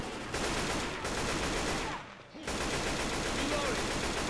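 Rapid, dense gunfire fills the Left 4 Dead 2 Dark Carnival level in a near-continuous loud burst, broken by a brief pause before the shooting resumes.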